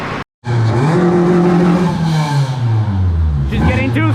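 A K-swapped Honda Civic engine roars loud and close on a dyno, holding a strained, steady pitch that sags lower over several seconds, with a rev burst near the end after a brief cut at the start.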